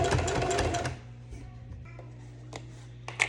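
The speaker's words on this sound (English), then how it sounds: "I'm sewing the legs back together" A sewing machine stitches the legs of a pair of jeans back together, running in a dense, fast burst for about a second before stopping, followed by a low steady hum with a few faint handling clicks.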